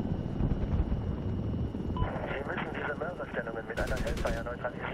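Gunfire crackles in the Medal of Honor 2010 military shooter game, a burst of rapid shots rising near the end, heard under a continuous rumble of aircraft or helicopter engine noise.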